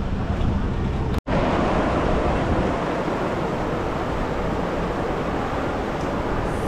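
The Sindh river flowing beside a roadside dhaba on the way to Sonmarg, a broad, steady rushing roar that holds constant throughout, broken only by one brief dropout.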